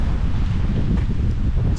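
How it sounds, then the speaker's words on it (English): Steady, blustery wind at Lake Ottawa in Upper Michigan roaring across the microphone, a continuous low rumble with no pauses and no voices. "It's a very windy day"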